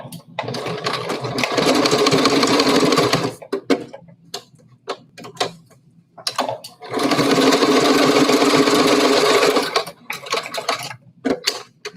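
A sewing machine stitching a closing seam on a fabric face mask, two sustained bursts of rapid mechanical chatter of about three seconds each, separated and followed by quiet handling clicks, close and clear.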